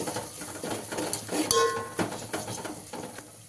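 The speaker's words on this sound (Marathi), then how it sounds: "आता हे सगळं साहित्य आपण छान परतून घेऊया" A metal spoon scrapes and clinks against a pan while spices and red chili powder are sautéed, with sharp taps and a brief ring around the middle over a faint background sizzle.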